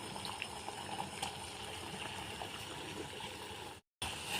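A pot of murungai keerai (drumstick leaf) soup with coconut boils on the stove, giving a steady, soft bubbling and gurgling at moderate distance, with one brief gap near the end.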